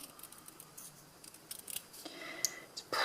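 A small pair of scissors snipping close by, a few quiet, irregular cuts building to sharper snips near the end, with faint background noise and no talking.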